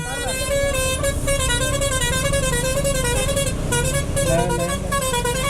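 Vehicle horns honk persistently in congested traffic waiting at a railway level crossing, with loud overlapping tones blaring almost without pause over engine rumble while people talk nearby.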